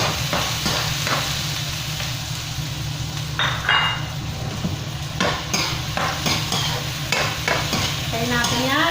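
Garlic and onion sautéing in butter in a pan for spaghetti, a steady close sizzle with a utensil stirring and scraping in short bursts throughout.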